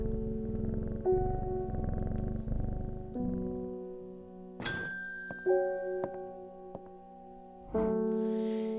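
A cat purrs steadily while being petted in the video game Strange Horticulture, then the purr gives way to several bright chime-like dings ringing out over a low sustained tone.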